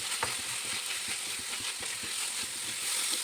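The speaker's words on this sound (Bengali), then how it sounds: "এবার সব কিছু একসঙ্গে করে ভালোভাবে নাড়াচাড়া করে কিছুক্ষণ কষিয়ে নিতে হবে" Masoor dal with tomato, ginger and garlic sizzles steadily in a pan while being stirred, with soft repeated scraping and clicking strokes under a continuous frying hiss.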